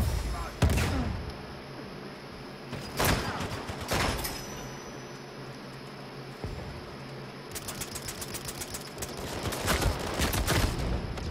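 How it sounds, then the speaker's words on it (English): Gunfire in the Uncharted 4 multiplayer video game: several loud, sharp shot bursts spaced a few seconds apart, ending in a rapid volley, over a constant background hum. "Damn, I just got shot through the wall."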